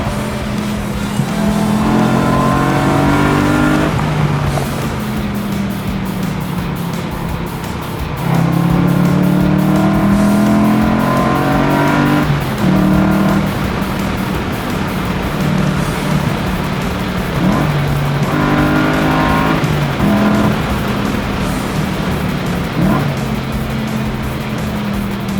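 A car driven hard along a winding road, its engine roaring loud and close throughout, revs rising and falling repeatedly as it accelerates out of bends and shifts gears.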